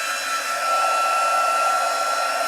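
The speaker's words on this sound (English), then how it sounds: "Heat up that embossing that I've done there." A crafting heat tool whirs continuously as it heats embossing powder, a loud, even blowing hiss heard close up without any speech.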